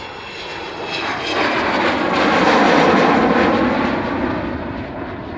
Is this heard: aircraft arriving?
yes